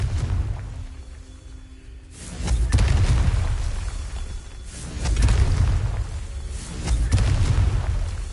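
Deep booming blasts from a Confringo blasting curse in a video game, three or four heavy low explosions a couple of seconds apart, each swelling and rolling off, loud and close with no talk.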